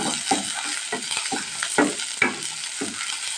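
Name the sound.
stirring onion with curry leaves and green chili in pan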